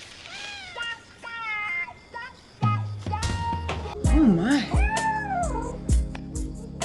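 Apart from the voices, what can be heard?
cat meowing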